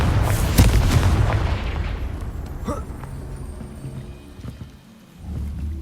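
The Confringo fire spell detonates in Hogwarts Legacy, opening with a loud, booming burst that decays into a rumbling, crackling tail, with a heavy low swell returning near the end.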